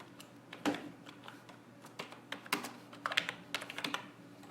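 Typing on a computer keyboard while entering text in Photoshop, a quick irregular run of close, crisp key clicks with short pauses, quiet and alone, with no talking.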